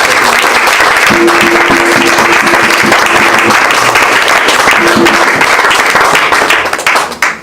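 A church audience applauds loudly and continuously, dense clapping filling the room and tapering off at the end.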